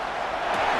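Stadium crowd in Madden NFL 26 roaring as a team lines up for third down, a dense, steady wash of cheering that swells slightly toward the end of a brief moment.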